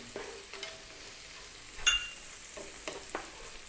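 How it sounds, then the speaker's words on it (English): Crispy bacon lands in a hot pan with a soft, low sizzle, marked by a few light clatters and one brief sharper clink near the middle. There is no talking. "We're going to drop our crispy bacon in there now."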